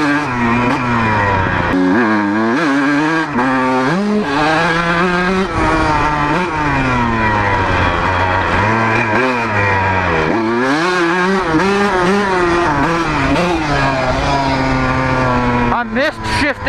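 Two-stroke motorcycle engine revving hard and loud, pitch climbing and dropping through two gear shifts, with a person talking over it.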